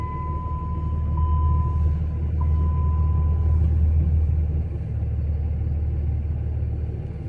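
A snowplow truck with a 48RE transmission and manual reverse valve body working snow on gravel, heard as a steady low engine rumble close by, swelling slightly mid-clip, with a faint tonal whine early on and no talking.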